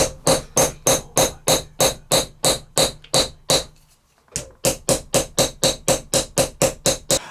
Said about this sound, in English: I do like riveting.